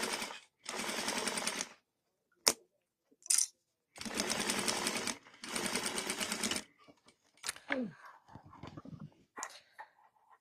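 Sewing machine stitching fabric for a DIY clutch bag, running in several loud, steady bursts of rapid mechanical whirring separated by pauses, with light handling clatter and a few brief voices between runs.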